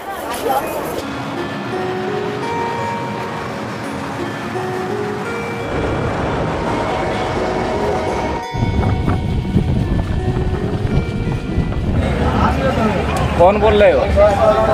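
Steady rumble and rattle of a moving Indian passenger train carriage near Asansol, with clattering wheels and a distant horn-like tone, while people talk nearby.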